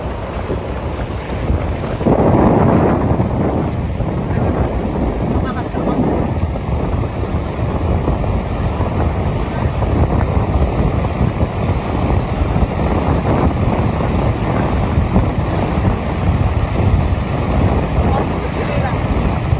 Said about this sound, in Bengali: এই যে আস্তে আস্তে ঢেউটা দেখো